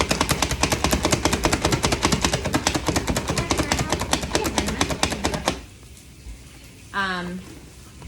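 A kitchen knife chops almonds on a cutting board with quick, hard slices, a fast even rhythm of sharp knocks for about five seconds before it stops and goes quiet.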